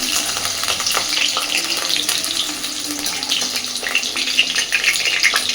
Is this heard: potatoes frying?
yes